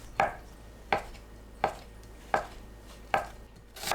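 A kitchen knife cuts Spam, briefly soaked in hot water, into thin strips on a cutting board, sounding as five evenly spaced, crisp chops about 0.7 seconds apart in a quiet room.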